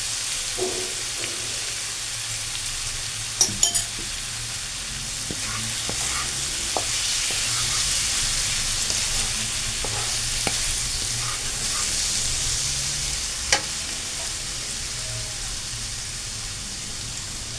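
A spoonful of ghee added to a cooking pan, giving a steady close sizzle like rain throughout, with scattered clinks and scrapes of stirring and a few sharper taps of a spoon.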